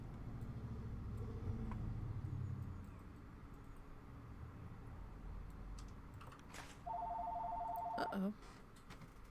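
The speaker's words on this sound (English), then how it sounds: "The phone is ringing." A telephone rings inside the video game Planet Zoo, a short electronic ring burst sounding twice over quiet ambient game noise and faint clicking, with a brief spoken exclamation near the end.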